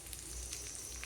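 Green chillies frying in hot oil for jeera rice, a soft, steady crackling sizzle, faint and close, with no talk.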